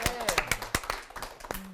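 Sparse, uneven hand claps from a small audience at a psychology lecture, a handful of sharp distinct claps close by, with voices murmuring underneath.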